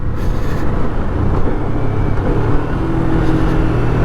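A Kawasaki Eliminator motorcycle engine pulling in first gear, a loud continuous close-up drone that holds steady with a slight rise, without voices.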